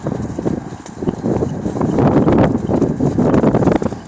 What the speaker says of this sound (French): regarde-toi s'il saute pas ce poney. Il sait très bien sauter hein